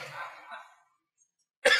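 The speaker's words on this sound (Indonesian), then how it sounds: "mereka batuk ya" A couple of short coughs come from audience members at a religious lecture, a brief muffled burst followed by silence and then a sharper, louder cough.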